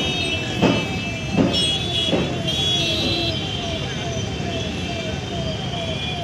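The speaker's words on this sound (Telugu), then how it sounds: "చూడొచ్చు ఆపోజిట్లో ఎంత ట్రాఫిక్ ఉందో." Busy road traffic flows on a street opposite a railway bridge, a continuous vehicle rumble with a few passing whooshes and a horn, while someone talks over it.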